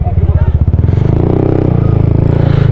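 A motorcycle engine idles with a loud, close, steady low thump while being parked at a hillside campsite in Tanay, Rizal, as someone talks over it.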